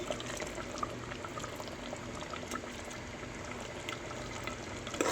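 Boti curry simmers in a pot, a soft continuous bubbling with small pops and crackles, fairly quiet and close, with no voices.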